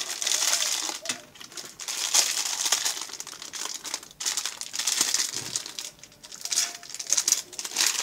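Crinkly plastic packaging around paracord survival bracelets is handled and torn open, giving bursts of crackling and rustling close up, uneven and continuous, with no one speaking.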